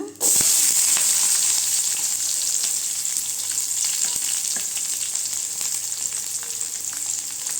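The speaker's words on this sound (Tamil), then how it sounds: "எண்ணெய் சூடானது பட்டை கிராம்பெலாம் போட்டுக்கலாங்க அடுத்து வெங்காயம் சேர்த்துக்கோங்க" Onions frying in hot oil with cinnamon and cloves for a chickpea curry, a steady loud sizzle with faint stirring clicks, continuous and close throughout.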